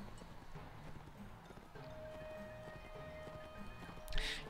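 Horse hooves clatter in the medieval combat game Mount & Blade Warband, a quick rhythmic clip-clop of a galloping mount mixed with game ambience, moderately quiet, ending in a brief louder burst.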